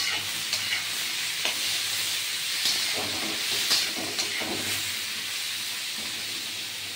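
Bitter gourd, pumpkin and chilies fry in a pan, with a constant close hiss of oil broken by repeated scraping clicks of a spatula stirring the vegetables; no one speaks.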